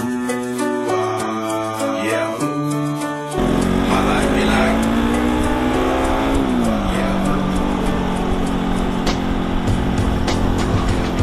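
Engine of an RS200 motorcycle while riding, loud and steady with a rising and falling rev pitch, entering after a short burst of music and continuing with rushing wind noise.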